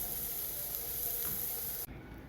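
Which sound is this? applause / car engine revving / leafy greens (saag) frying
leafy greens (saag) frying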